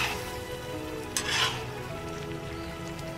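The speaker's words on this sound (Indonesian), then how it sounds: "Aduk terus perlahan-lahan biar nanti dia tidak gosong" Beef rendang simmering in coconut milk is stirred slowly, giving a steady close sizzle and bubbling with a brief louder scrape of the spoon partway through.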